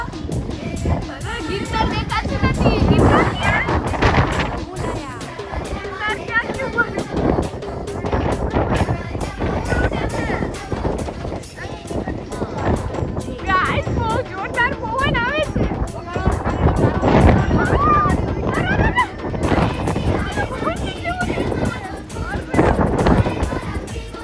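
Strong, gusting storm wind in Junagadh roars and buffets the microphone continuously, with rumbling noise, a shaking auto-rickshaw and occasional voices underneath.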